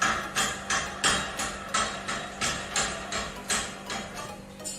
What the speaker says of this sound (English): Tighten it again with the iron rod.